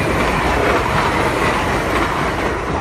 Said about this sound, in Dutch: Waarom maken die treinen al op hetzelfde geluid als de goederen?